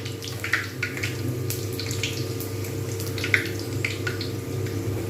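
Beetroot luchi frying in hot oil gives a steady, fairly quiet sizzle dotted with sharp crackles and spits throughout, with no voices.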